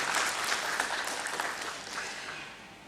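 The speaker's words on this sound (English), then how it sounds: "Can we all have a round of applause and cheers for him" Sustained applause with scattered cheering from a large audience in a convention hall at a book launch and birthday celebration, a dense, steady wash of clapping that fades slightly toward the end.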